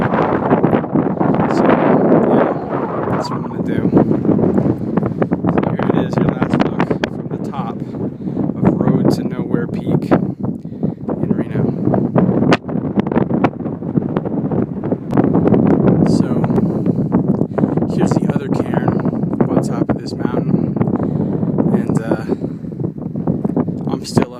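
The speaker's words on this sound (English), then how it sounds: "exposed ridge, so still lots of wind" Strong gusting wind on an exposed mountain ridge buffets the microphone continuously, a loud rumbling roar with a person talking underneath it.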